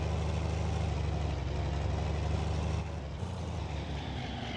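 Tractor engine idling in the Farming Simulator 19 video game: a loud, steady low mechanical drone that holds evenly throughout, dipping slightly toward the end, with no voices.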